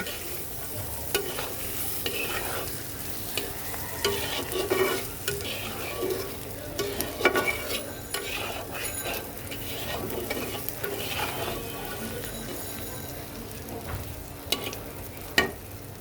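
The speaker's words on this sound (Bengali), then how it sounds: "দেখো মাছটা আর পেঁয়াজটা খুব সুন্দর মতন কিন্তু আমার ভাজা ভাজা হয়ে গেছে এখন আরও একটু কিছুক্ষণ এটাকে ভাজা ভাজা করবো" Prawns and onion fry in a pan for prawn do pyaza, a continuous, fairly quiet sizzle punctuated by repeated scrapes and taps of the spatula as they are stirred.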